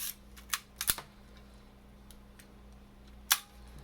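A Nikon FE 35mm film camera shutter set to B mode fires with sharp mechanical clicks nearby: a cluster of quick clacks as it opens, then a single crisp snap a few seconds later as it closes, in a quiet room.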